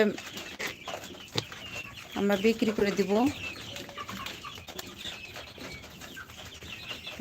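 Hens at a poultry farm, 47-day-old laying birds, give a short run of clear clucks close by, rising over someone talking and faint background farm noise.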